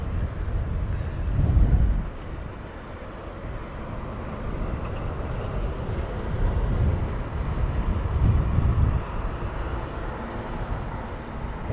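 Air India Boeing Dreamliner taxiing at Heathrow Airport, a steady low rumble of jet engines with wind buffeting the microphone and a couple of swelling louder passes, heard from a distance.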